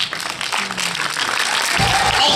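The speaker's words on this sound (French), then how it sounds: "je vous demande d'applaudir Bérangère" Audience applause at a film premiere, a continuous broad wash of clapping that holds steady and grows slightly fuller toward the end, with faint voices mixed in.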